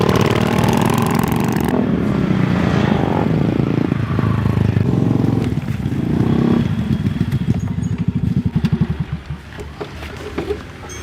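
A motorcycle engine runs steadily while being ridden, loud and close throughout, with a brief revving pulse near the end.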